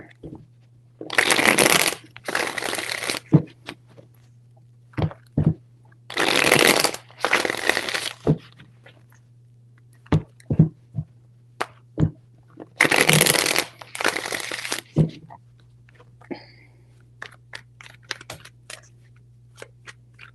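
Tarot cards being shuffled in several separate bursts, each a crisp, close riffling rustle lasting about a second, separated by soft taps and handling sounds over a quiet low background hum.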